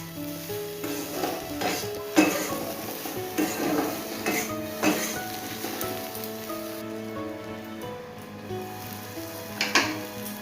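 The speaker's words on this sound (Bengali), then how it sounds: "এই দিয়ে সোয়াবিনটা একটু ভালো করে ভেজে নেব।" Soya chunks frying in a pan with turmeric and Kashmiri chilli powder, giving a steady crackling sizzle broken by several scraping stirs and a few sharp clinks of utensil on the pan, close by with no talk.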